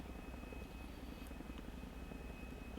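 A video-game helicopter drones steadily with a constant rotor and engine wash, heard alone and unbroken at moderate level.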